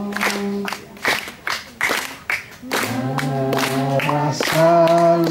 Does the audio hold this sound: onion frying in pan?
no